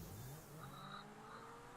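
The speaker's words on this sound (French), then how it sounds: "Pourquoi elle accélère comme ça ta voiture, toi?" A car accelerates in the video game GTA V, a faint, steady engine drone with a slight rising whine and no voices over it.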